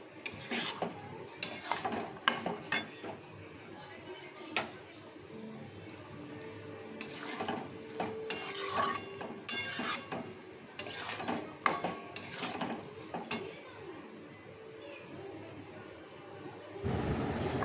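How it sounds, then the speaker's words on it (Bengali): A spoon stirs peas and potatoes with spices in a pan for ghugni, scraping and clinking against the metal in irregular bursts over a soft background sizzle. "ভালো করে মটর আলু আর মশলাটা একসাথে আমি কিছুক্ষণ ধরে কষিয়ে নেব।"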